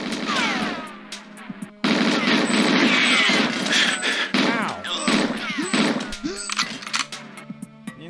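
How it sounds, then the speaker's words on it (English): Dense gunfire and crashing impacts from the GoldenEye 007 video game, with rapid bursts running continuously, loud and close, and a talking voice heard intermittently over the shooting. "I perfectly dodged those bullets."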